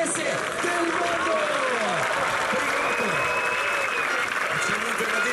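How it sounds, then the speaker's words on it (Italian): Loud, sustained applause from a large crowd at the 2014 World Championships women's final, with cheering and a few shouts over dense clapping throughout. "voglio sentire il vostro applauso per le campionesse del mondo!"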